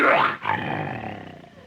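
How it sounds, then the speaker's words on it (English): A lion's roar sound effect for an old radio comedy drama bursts out close and loud, a rough bellow that breaks briefly and then trails off into a fading growl. "the air was rent by the roar of a lion"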